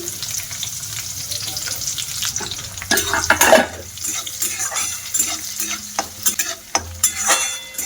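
Chopped onions fry in oil left from frying potatoes, for a chicken roll filling, with a steady sizzle under scraping and stirring clatter of a utensil in the pan, louder around the middle.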